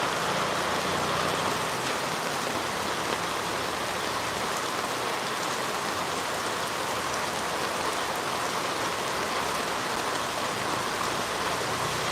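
Steady rain falls outside a shop at night under yellow light, a dense, even hiss that holds at the same level throughout with no talk over it.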